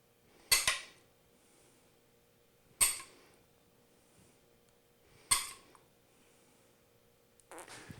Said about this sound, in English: Take our spoon and even it out.